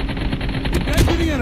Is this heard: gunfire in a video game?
yes